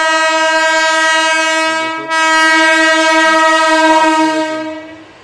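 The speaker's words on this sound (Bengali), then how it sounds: "এই দেখেন আপ ট্রেন ঢুকছে" A passenger train rolls into a foggy station, its horn blaring in a long loud sustained blast that briefly cuts out and resumes, with faint rail clatter beneath before the sound tails off.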